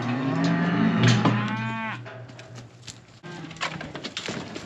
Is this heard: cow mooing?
yes